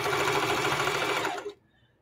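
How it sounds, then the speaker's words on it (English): A sewing machine runs steadily while chain piecing rag quilt blocks, a close, continuous whirring stitch that stops abruptly near the end, leaving near silence. "when you assembly line sewing or chain piecing, you just keep going"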